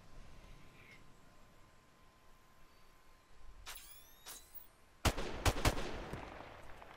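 Gunfire in Call of Duty multiplayer: a couple of faint distant shots around the middle, then a loud close burst of rapid shots near the end, with quiet voice chat underneath.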